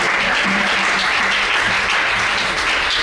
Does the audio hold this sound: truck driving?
no